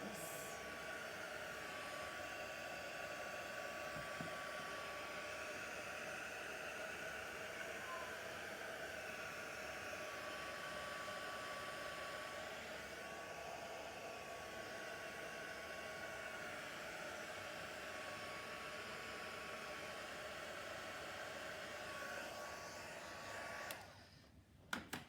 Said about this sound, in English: the next thing I'm going to do is heat emboss.